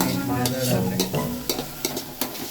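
A utensil stirs and mixes food in a hot pan, making a series of scraping strokes in an uneven rhythm over a soft background sizzle.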